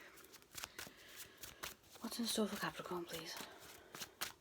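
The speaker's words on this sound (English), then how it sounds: "these cards, trying to shuffle them quickly" Quick riffling of a card deck being shuffled, crisp papery bursts under a person speaking.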